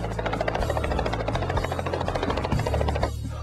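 A helicopter drones over Alaska with a steady, throbbing rotor hum, fairly close and continuous throughout.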